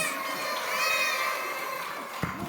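A crowd at an opening ceremony and fashion show cheers and shouts in a loud, steady roar that holds throughout, with a brief thump near the end.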